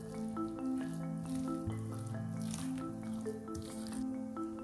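Thick sabudana and dill leaf idli batter squishes wetly as it is stirred and mixed by hand in a bowl, soft repeated squelches under steady background music.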